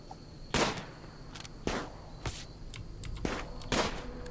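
Gunfire aimed at a fox in the RimWorld video game: about five sharp, separate shots spaced irregularly over a few seconds, fairly close and loud over a faint steady background hum.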